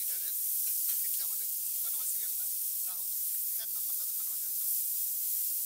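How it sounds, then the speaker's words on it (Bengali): Fish frying in oil in a busy hotel kitchen gives a steady, broad sizzling hiss throughout, while people talk loudly nearby over it. "এই যে মামা এখন মাছ ভাজি করতেছে"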